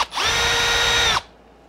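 Power driver unscrewing the middle screw of the center brace on an ARRMA Kraton V3: one steady high-pitched whir lasting about a second, close and loud, then quiet.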